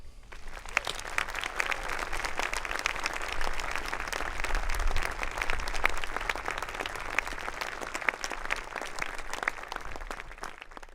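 Sustained audience applause at a college graduation ceremony honoring faculty and staff, a dense steady wash of many hands clapping for about eleven seconds, fairly distant and even, without speech.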